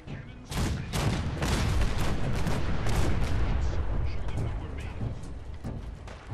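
Cannon artillery fire in the video game Fallout 4: a barrage of heavy, rumbling booms rolls together into a loud, continuous roar with a few sharper blasts standing out.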